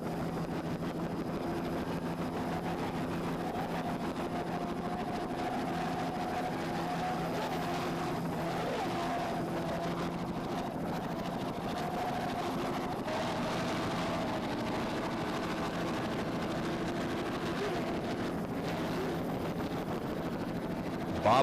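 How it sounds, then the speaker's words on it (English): Offshore racing powerboat, a 38-foot Apache with twin 750-horsepower Bandit engines, droning steadily at a distance in a Key West harbor during a world championship race, a faint sustained engine hum with no talk. "Twin 750 horsepower Bandit engines in a 38-foot Apache."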